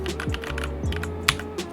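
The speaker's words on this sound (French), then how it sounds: "Désolé si vous entendez les bruits de mon clavier aussi" A computer keyboard clatters with quick, uneven keystrokes during a PC gaming session, close and fairly loud over a low steady hum.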